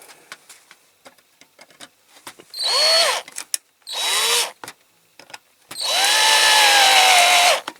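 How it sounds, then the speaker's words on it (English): A drill bores into the hook of a Dinky Toys Leyland Octopus model lorry in three whining bursts, the last one longest, with small clicks and handling noises in the gaps between them. "So I want to try and drill this out."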